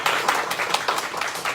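A congregation at a Sunday worship service gives a brief, moderately loud round of welcoming applause, with dense clapping that comes in small surges.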